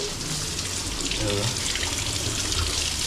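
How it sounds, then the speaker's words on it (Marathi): Running tap water streams steadily over food being washed at a sink, a continuous close gush throughout with a voice talking over it. "याचं धुवून घ्यायचं"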